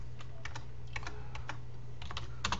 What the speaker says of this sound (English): Typing isn't my strong suit.